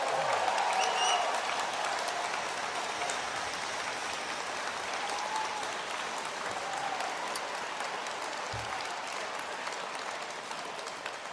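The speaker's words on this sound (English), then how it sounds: "how about kicking it off with a huge, warm round of applause for the work of every MP, staffer, and volunteer in this room tonight" A room full of MPs, staffers and volunteers at a Liberal caucus holiday gathering claps in a long, warm, continuous round of applause, dense and even, with faint cheers and voices mixed underneath.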